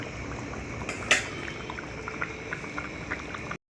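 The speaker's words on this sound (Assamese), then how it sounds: "মাছকুটিটো দিয়াৰ পিছত আকৌ মই 10 মিনিটমান উতল আহিবলৈ দিম।" Fish curry with shol fish boiling in a pot, a steady close rolling bubble and simmer throughout, with one brief clink near the start and a sudden cut just before the end.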